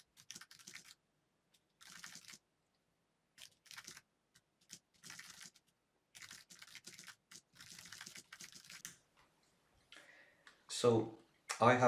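Someone types on a computer keyboard while coding, producing quiet, intermittent bursts of clicking keystrokes separated by pauses, with a couple of louder clacks at the end.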